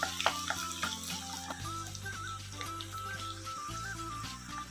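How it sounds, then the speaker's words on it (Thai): Sliced shallots fry in hot oil, a steady close sizzle and crackle with a constant hum beneath and small tonal chirps layered over it. "ตอนนี้น้ำมันร้อนนะครับใส่ลงไปเลยครับเราจะเจียวหอมแดงของเราให้สุกเหลืองกรอบเลยนะครับ"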